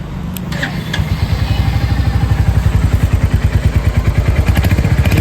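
A Royal Enfield Hunter 350 motorcycle starts up and settles into a loud, close thumping idle, its steady rhythmic single-cylinder pulse running for several seconds after a short crank.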